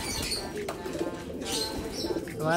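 Pet pigeons coo and flutter their wings close by, a steady soft murmur of cooing with brief flapping bursts, amid light background noise and no talking.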